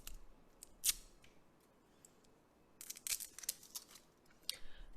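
Packaging of a Lidl cosmetic dupe being opened, with a few quiet crisp snips and a sharp crinkle of paper and plastic, close and faint, and no talking.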